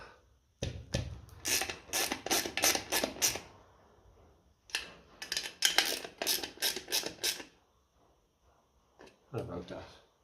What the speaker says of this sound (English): I don't go too crazy tightening these up now.